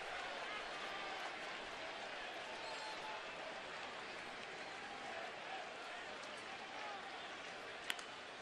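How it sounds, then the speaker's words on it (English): Applause and cheering from a baseball crowd in the 7th inning of a Detroit at Cleveland game, a steady, distant wash of ovation that holds evenly throughout with no break. "A nice ovation from the crowd here in the 7th inning."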